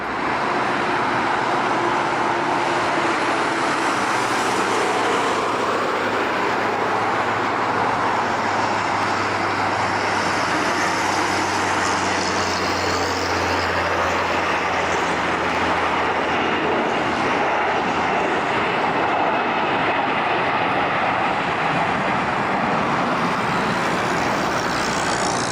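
An Airbus A340 airliner barely getting airborne before the runway's end, a steady loud jet roar that fills the whole stretch with broad rumble and hiss, no voices.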